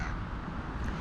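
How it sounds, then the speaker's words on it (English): Crows caw against a steady, dense background rumble, the calls blending into the noise at moderate distance. "see if I can get some of the crows to come down"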